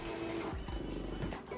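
A vinyl cutter slicing out a sticker decal, its blade carriage whirring and clicking in short mechanical bursts with motor tones close by. No one speaks.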